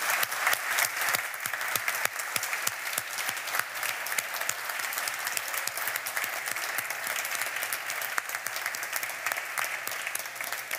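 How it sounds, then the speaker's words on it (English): A final round of audience applause closes a Cambridge Union debate, with many hands clapping in a dense, even patter that stays steady from start to finish. "Could we please end with one last round of applause for all those that contributed this evening?"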